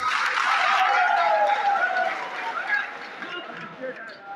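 Crowd applause at a Samajwadi Party rally in Malegaon, dense clapping that starts loud and gradually fades, blended with some crowd voices.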